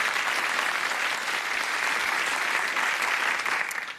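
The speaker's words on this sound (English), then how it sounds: "So a round of applause for our champion and our challenger, Jeremy Schiftan and Clint Bransgrove." A studio audience at a televised letters and numbers quiz show gives sustained, even applause for the champion and challenger, dense and full throughout before tapering off at the very end.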